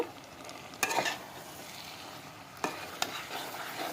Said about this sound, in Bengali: এখন কষিয়ে নিচ্ছি এগুলাতে একটু মশলাগুলো আমি মিক্স করে নিব